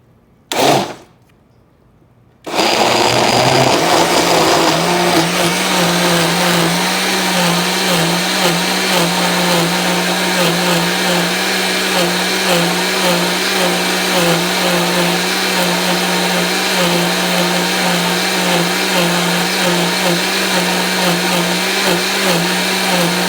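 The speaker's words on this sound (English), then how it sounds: "You put them in the blender" A blender whirs steadily for about twenty seconds after a brief thump and short pause, loud and continuous as it purees strawberries, watermelon and a cup of milk into a smoothie at home.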